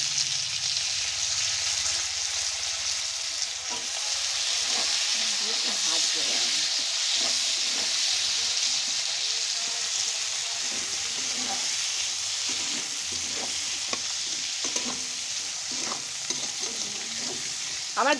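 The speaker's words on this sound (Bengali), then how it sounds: "এর মধ্যে কালো জিরে, পেঁয়াজ আর কাঁচা লঙ্কা চিড়ে দিয়েছি। সিম্পলের মধ্যে করব, তেমন কোনো ইয়ে করবো না। দিয়ে এবার এগুলো দিয়ে একটু ভাজা ভাজা করে নেবো।" Onion, green chili and black cumin, with tomato, fry in a pan with a steady, even sizzle and hiss, broken by light scraping taps of stirring throughout.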